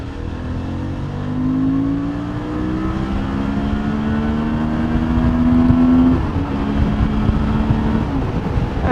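A 2019 Suzuki V-Strom 650 adventure motorcycle pulls hard on the road, engine whine climbing steadily through the gears with clear shifts, loud and close under rushing wind, no voices.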